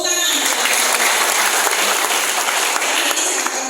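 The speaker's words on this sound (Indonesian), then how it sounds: "Tepuk tangan." Sustained applause from a church congregation during a visiting-service sermon, loud and dense throughout, a steady wash of many hands clapping with no talk over it.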